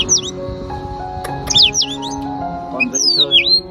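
An oriental magpie-robin, a caged bird just over a year old, sings close and loud in bright whistled phrases with sliding notes, over faint background music or voices.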